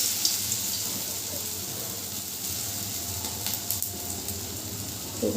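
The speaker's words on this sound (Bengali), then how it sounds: "একে একে বড়াগুলো এভাবে নিয়ে তেলের উপর দিয়ে দেব।" Gadal leaf fritters (bora) frying in hot oil, a steady close hiss and crackle that holds evenly throughout with no talking.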